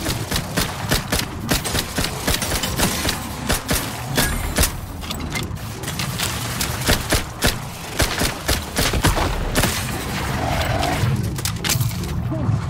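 Dense, loud gunfire from The Outer Worlds 2 video game, sustained bursts and rapid shots layered over mechanical clatter and game effects, with brief voice lines in the mix.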